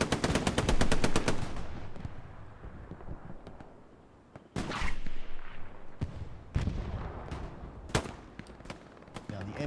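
Loud automatic machine gun fire from an MG in a WWII combat game at Utah Beach, with a rapid burst at the start followed by scattered gunshots and heavier blasts, near and far, and battlefield voices underneath.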